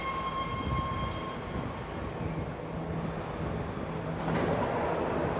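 A BART Fleet of the Future train pulls into a station, a steady broad rumble of rail noise with high squealing tones that swells louder toward the end as the cars roll in close by.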